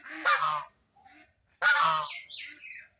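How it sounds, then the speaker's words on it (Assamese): A pet duck quacks and honks in two loud nearby bursts, the second call trailing into shorter, softer squawks. "এইটো আমাৰ হাঁহটো"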